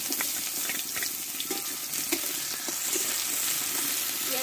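Onions sizzle steadily in hot oil in a home kitchen, a dense, close crackling hiss with brief stirring clinks, as part of a Bengali raw banana curry.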